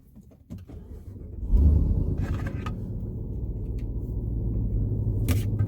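A 1000HP Jeep Trackhawk starts up. A sharp crank leads into a loud low rumble that settles into a steady idle, with a brief higher burst near the end.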